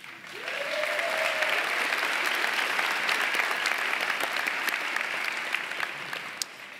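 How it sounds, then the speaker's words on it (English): Sustained applause from a large commencement crowd at the University of the Arts, dense and steady for several seconds, with a faint whoop rising early on. "Give yourselves a round of applause."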